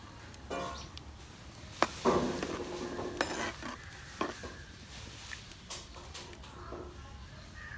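A spoon stirs boiling lentils with turmeric in a metal pot for spinach kadayal, giving a few sharp clinks and scrapes against the pot over a low bubbling background.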